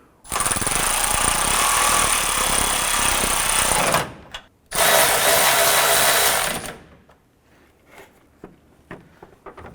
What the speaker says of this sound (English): Let's go ahead and snug down our grill bolts here.